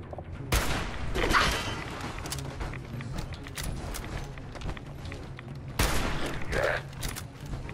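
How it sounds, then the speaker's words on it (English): Gunfire from shooting ghouls in Fallout 4: loud bursts of close rapid shots, a heavy volley at the start and another later, with scattered impacts between. "I'm gonna shoot you in the face."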